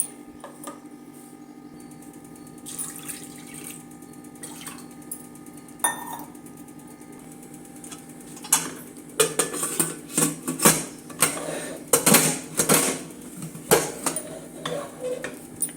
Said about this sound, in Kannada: ನೆನೆಸಿರೋ ಕಡಲೆಬೇಳೆನ ಕುಕ್ಕರ್ಗೆ ಹಾಕ್ತಾಯಿದ್ದೀನಿ.